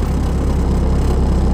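A Neon car engine with aftermarket exhaust idles steadily and loudly up close, a deep low rumble with a throaty, pulsing exhaust note and no voices.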